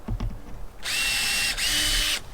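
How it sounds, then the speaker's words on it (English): A power drill bores through the roof of an RV to mount a solar panel (Zamp Solar 170W kit), a loud steady whine lasting about a second and a half with a brief dip midway, close by, after a few knocks. "Just going to drill right through the top."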